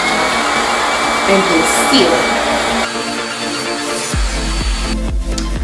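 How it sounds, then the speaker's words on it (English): A hair blow dryer blows with a loud, steady broadband whoosh close up, its tone shifting midway as the setting changes, while someone speaks briefly over it. "now I'm just going to go in with my blow dryer"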